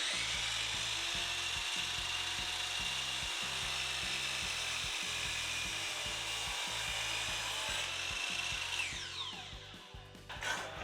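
A power saw cuts through clamped wood pieces for a keyboard wrist rest, a loud continuous whining buzz with a rhythmic low chatter, tapering off near the end.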